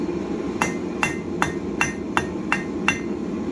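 A blacksmith's hammer strikes the corners of hot steel bar to form an octagon for an S-hook plant hanger, seven sharp ringing blows at a steady rhythm over a low background hum.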